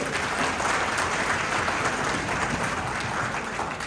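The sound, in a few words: audience clapping for correct answer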